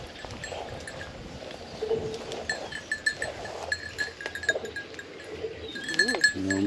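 A goat bleats on a farm in central Portugal, with faint calls and a tinkling bell spread through the scene. A clearer bleat comes near the end, and people talk quietly.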